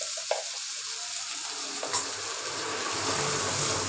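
Chopped tomatoes hitting a hot pan, a sudden burst of sizzling and hissing after a few quiet scrapes of the spoon, then settling into a steady close crackle as they cook.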